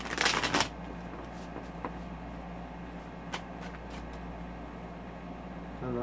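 A Wheel of the Year tarot card deck being shuffled, a short close burst of riffling cards at the start, followed by a steady air-conditioner hum with a few faint taps.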